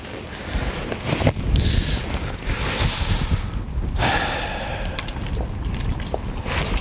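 Wind buffeting the microphone at a lake during feeder fishing for bream, gusty low rumbling that swells and drops in bursts, with faint rustling and breath-like noises close by.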